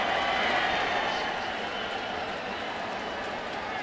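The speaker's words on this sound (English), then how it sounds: "Nice crowd here." Steady wash of crowd noise fills a baseball stadium of some 40,000 fans at a Braves at Cardinals game, a continuous murmur with possible light clapping and no clear peaks.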